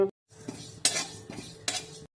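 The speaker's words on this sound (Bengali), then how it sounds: "জিরা অর্ধেক ভাজা হয়ে গেছে" Cumin seeds frying in a pan for a Bengali home-style rohu fish and potato curry, with soft sizzling and a few clear clinks of a utensil against the pan, close and loud.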